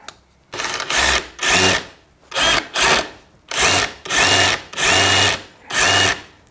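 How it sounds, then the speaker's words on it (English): A DeWalt 20V brushless rotary hammer drills into concrete in short repeated bursts, roughly eight loud hammering pulses with brief pauses between them, close up and without speech. "So if you're going to go hammer drill,"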